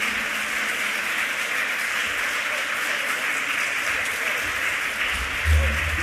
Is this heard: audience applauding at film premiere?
yes